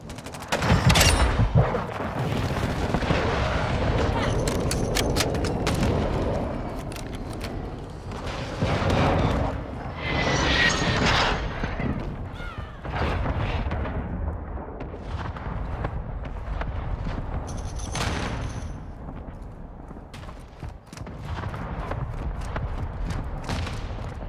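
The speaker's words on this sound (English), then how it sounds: "Friendly mortar strike on the way." Mortar strike explosions from Call of Duty: Modern Warfare II, a dense, loud barrage of repeated booms and blasts rolling through the full length with scattered sharper cracks, no talking over it.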